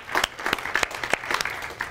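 A live seminar audience claps for Karina, a student being recognised, in a brief burst of scattered hand claps that swells and then thins out over a couple of seconds.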